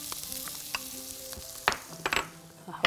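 Onions drop into a hot pan and fry with a close crackling sizzle, broken by several sharp stirring and utensil clatters toward the end, with no speech.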